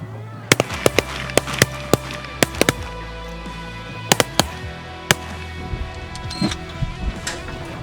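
Sharp, loud cracks ring out again and again during a hunt, with many separate reports spread irregularly across several seconds and some falling in quick clusters.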